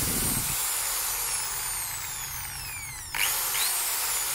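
A Makita HB1630 hammer drill whines steadily at high speed, close and loud, its pitch shifting as the variable-speed trigger is squeezed, with a brief jump in intensity near the end.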